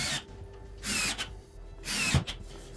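Power drill driving screws into a wooden piece for a CNC router carving, heard as two or three short whirring bursts separated by pauses, fairly quiet and close with no talk.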